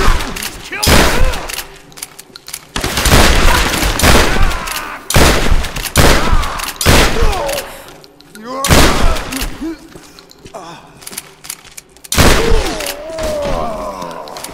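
Gunfire in the Tomb Raider video game comes in loud, sharp bursts and rapid volleys, repeating at irregular intervals with brief quieter gaps, and voices are heard between the shots.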